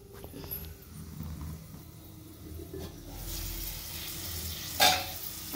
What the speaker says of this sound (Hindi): अभी हम सब्जी को 1 से 2 मिनट के लिए ढककर पकाएंगे।